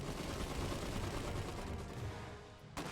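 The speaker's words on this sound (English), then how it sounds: "Open fire! They're shooting at us!" Continuous gunfire in the Iron Harvest video game, a dense, rapid barrage of overlapping shots with deep booms, fairly quiet and steady throughout, ending with one sharper crack.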